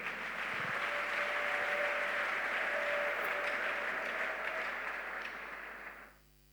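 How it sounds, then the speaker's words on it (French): Church congregation applauding to acclaim the Lord, sustained dense clapping with a held tone beneath it, fading out at the end. "Acclamons le Seigneur"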